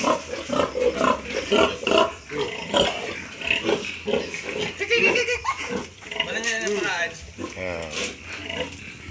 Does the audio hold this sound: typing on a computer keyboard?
no